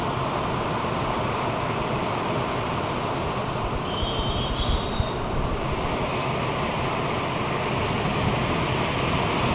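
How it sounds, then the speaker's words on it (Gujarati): Heavy rain in wind hisses as a dense, steady wash, with a broad rushing roar and no clear thunderclap standing out. "બહુ જોરદાર વરસાદ થઈ રહ્યો છે કડાક અને ભડાક સાથે"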